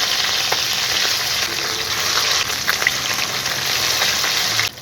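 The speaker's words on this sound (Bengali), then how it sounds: "মাছটা বেশি ভাজবো না, হালকা করেই ভাজবো।" Rui fish frying lightly in a pan of hot oil, a steady dense crackling sizzle running close and fairly loud throughout, dropping off abruptly at the very end.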